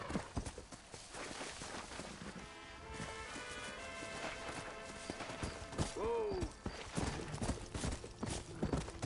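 Horse hooves clip-clop along in the Red Dead Redemption video game, a steady walking rhythm with a brief whinny midway, set against a busy, continuous game soundscape.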